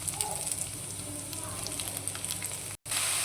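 Chopped onions sizzle and crackle steadily in hot oil for an egg curry, a loud continuous frying hiss with a brief cut near the end.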